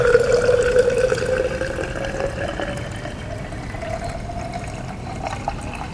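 Liquid toluene is poured into a water layer already holding iodine in a chemistry lab, giving a steady splashing trickle that fades slightly as it continues, close and alone.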